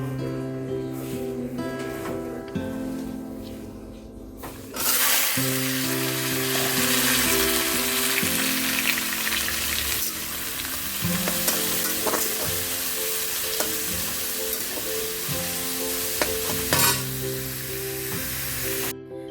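Vegetables frying in hot oil in a kadai (wok), a steady loud sizzle that swells after the first few seconds and keeps crackling with light stirring, over a faint tonal background.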